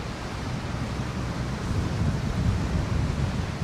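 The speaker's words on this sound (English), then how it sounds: "The wind, it's a little splashy here with what's happening." Steady wind roars against the microphone during a Florida boat ride, with a continuous wash of splashing water underneath, loud and unbroken without speech.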